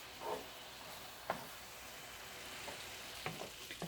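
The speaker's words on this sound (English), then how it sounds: "So I rendered down the bacon, just like so." Bacon for carbonara frying in a pan, a faint, quiet sizzle with a few soft crackles and pops spread across the moment.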